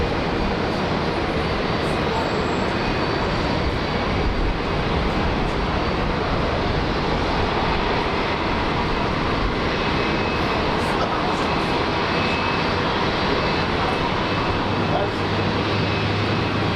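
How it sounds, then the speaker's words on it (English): An airliner takes off from the runway at Brisbane Airport, a steady loud broadband engine roar sustained throughout without pause. "New Zealand 272, runway 9 left, clear for takeoff."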